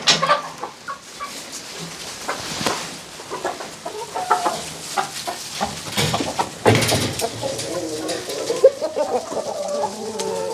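Several chickens cluck and squawk close by in a busy, agitated chorus, with rustling and scuffling movement throughout.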